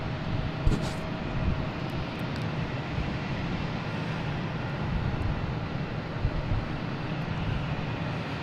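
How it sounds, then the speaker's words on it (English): Air Portugal airplane landing at Boston Logan airport, a steady broad engine rumble heard from a distance that holds evenly throughout, with no talk. "And Air Portugal just landed."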